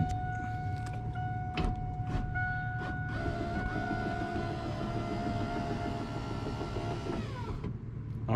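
Power window motor on a Trans Am / Camaro running after a replacement, a steady close whirring drone lasting most of the clip, with a few sharp clicks near the start and a slowing whine as it stops near the end.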